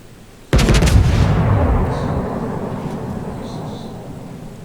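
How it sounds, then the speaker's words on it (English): German battleship main battery guns fire in World of Warships, a loud sudden boom followed by a long rumbling roll that slowly fades, with faint distant echoes behind it. "I see the Tirpitz over here, so I do take a pot shot at him."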